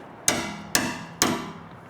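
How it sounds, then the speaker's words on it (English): A hammer strikes a screwdriver three times in an even rhythm, working the fuel pump locking ring on a 1996 Ford F-250; sharp, close metallic taps, each ringing briefly, with no talk. "Alright, you take your hammer."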